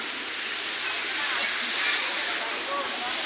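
Steady rushing river water flowing continuously, a broad even roar with faint sloshing, fairly loud and close.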